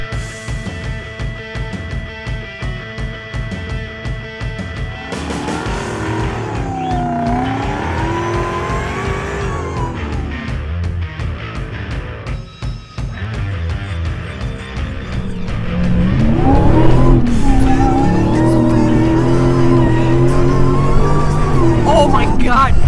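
Jeep drivetrain whine while driving, a rising and falling tonal whine over loud road and engine noise that grows louder partway through, with people talking over it.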